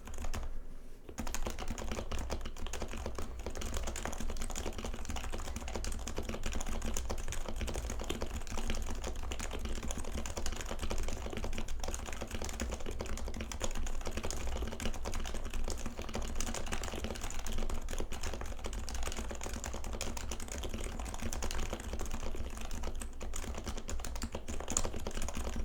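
Lubed, otherwise stock switches on an NBH LumenTKL mechanical keyboard are typed on continuously. Soft, dense keystrokes patter close and steady for the whole stretch, with no talking.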